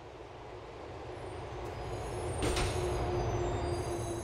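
A train in the video game GTA 4 rumbles steadily at low volume, with a faint metallic squeal and a brief clatter midway.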